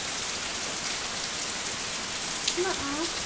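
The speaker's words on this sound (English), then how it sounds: "the rain would hit it and end up going in there and then dripping on your head" Rain patters steadily on leaves and surfaces around a ranger's cabin, with drips close by and a brief voice surfacing near the end.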